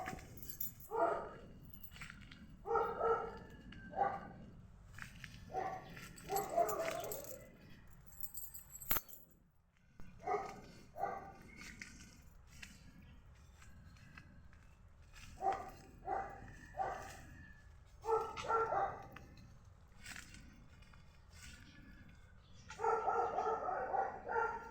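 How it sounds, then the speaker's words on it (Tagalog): Many dogs bark in scattered bursts on a rural farm, some close and some farther off, with quieter gaps between the barking. "Ang dami ng aso."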